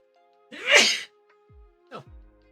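A single sharp sneeze bursts out close to the mic, followed by a couple of faint small noises in otherwise quiet surroundings.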